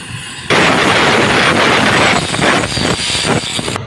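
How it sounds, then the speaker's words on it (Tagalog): An airplane or helicopter near NAIA airport in Parañaque roars in abruptly and loudly overhead, a dense sustained engine rumble that holds strong and wavers slightly as it passes. "kaliwat kanan talaga yung dumadaan na aeroplano dito o helicopter"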